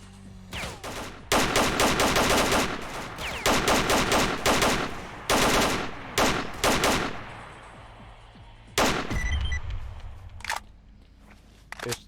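Bursts of Kalashnikov rifle fire in the S.T.A.L.K.E.R. shooter game, loud rapid volleys of several seconds each, separated by short pauses and then a final brief burst.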